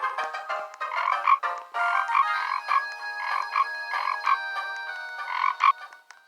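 Cartoonish frog croaks from a video game, a rapid series of bright, pulsing calls repeating steadily for several seconds, loud and close with no talking over them.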